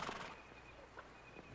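Horse heard briefly and faintly, a short snort or whinny-like sound with light movement, no voices.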